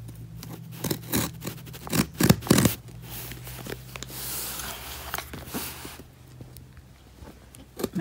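Cardboard box being cut open for a succulents unboxing, with a burst of sharp scraping, ripping cuts near the start, then softer sliding scratches and rustling up close.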